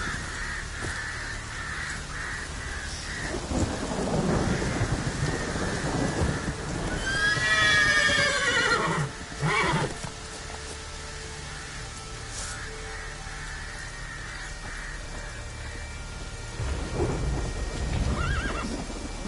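Roach the horse whinnies in The Witcher 3: Wild Hunt, a loud rising neigh mid-clip over a steady game ambience with thunder-like rumbles, crow caws and a few hoof clip-clops.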